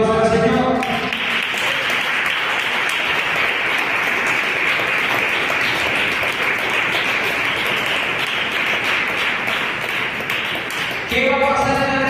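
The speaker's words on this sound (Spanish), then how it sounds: "Denle un aplauso al Señor." A congregation at a Sunday church service clapping in praise, one sustained, loud wash of applause filling about eleven seconds, with voices briefly audible at the start and the end.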